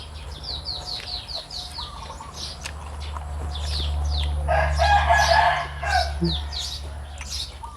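A domestic rooster crows at a moderate distance, with a louder, fuller call near the middle, while small birds chirp steadily around it over a low background hum.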